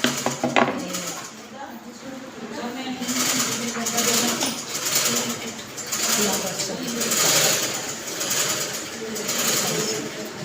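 A sewing machine stitching around the neckline of a summer frock runs in bursts of rapid whirring, and someone talks over it throughout.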